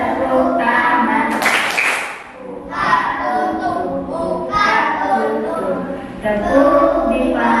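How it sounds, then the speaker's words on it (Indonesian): A group claps hands in a classroom exercise session, a dense burst of applause-like clapping near the start followed by lighter scattered claps under steady speaking voices. "Buka tutup, bertepuk tangan."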